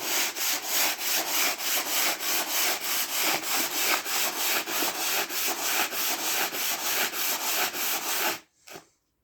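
An oilstone is rubbed back and forth to flatten it, a dense rhythmic rasping grind of about two strokes per second, close and loud, stopping abruptly near the end.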